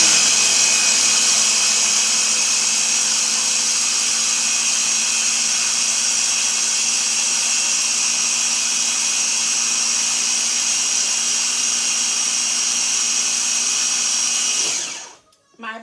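A countertop blender, not a Ninja, whirs steadily as it liquefies red pepper and mango into a sauce, a loud continuous drone that cuts off abruptly at the end.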